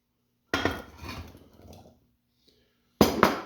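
Chopped celery drops into a pot of potato soup, making two separate clattering thuds: one with a trailing rattle, then a short pause before the second clatter.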